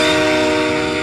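The Scream Train from the video game The House of the Dead: Overkill blares a loud, sustained horn-like tone over a dense rumbling roar, close and constant throughout.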